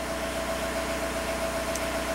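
A Volkswagen TDI diesel engine idles during a timing output test, a steady, unchanging drone with a constant tone and no talk.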